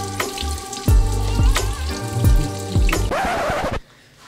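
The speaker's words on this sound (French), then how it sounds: "C'est l'heure de laver les patates" Running water from a kitchen tap pours steadily as potatoes are rinsed and rubbed in a sink, with knocks and splashes at regular intervals and music playing underneath, the flow stopping abruptly near the end.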